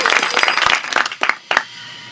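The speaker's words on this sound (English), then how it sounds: "Big round of applause." Audience applause at a live improv comedy show, a dense burst of clapping that thins into a few scattered claps and then stops.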